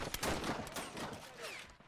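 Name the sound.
mortar fire in a video game about the 1919 German Revolution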